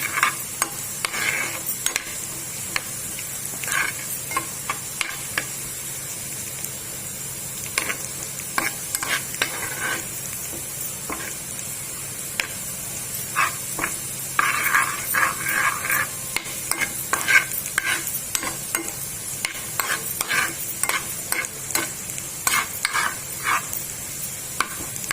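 Mutton nihari pieces browning in a pan over a very low flame, a steady soft sizzle and frying crackle with occasional stirring scrapes, continuous and close, with no talking.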